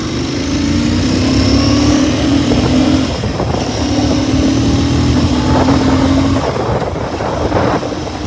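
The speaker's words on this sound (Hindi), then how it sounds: "अभी गाड़ी सेकंड गियर पे है तो एक बार भगा के देखते हैं गाड़ी को" A Royal Enfield GT 650 twin, 650 cc, pulls hard in second gear, its engine note climbing steadily and loud and close, with a brief dip before it rises again and keeps roaring.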